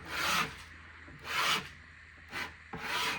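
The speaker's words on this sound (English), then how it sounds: "So I'm using this liquid just to remove the big areas and then sand the small little areas." Liquid Goof Off remover being scrubbed over a kitchen cabinet finish, four close, loud rubbing strokes in a steady back-and-forth rhythm with no talking.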